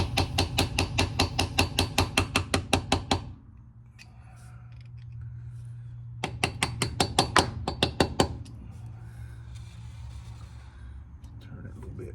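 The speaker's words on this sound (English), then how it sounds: "Let me go get a hammer." A hammer strikes a screwdriver in fast, even, ringing blows, a long run, then a pause, then a shorter run, over a steady low hum, while working on an old vehicle.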